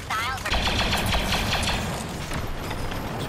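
Rapid blaster fire in the video game Star Wars Battlefront 2 crackles in dense, continuous bursts of sci-fi zaps, loud and close, mixed with battle noise throughout.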